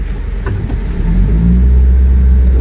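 A white car drives past on a street in Khenifra, Morocco, its engine rumble swelling loud and close, then holding as a steady low roar.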